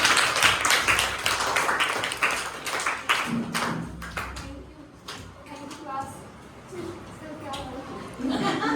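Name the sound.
children clapping for a teacher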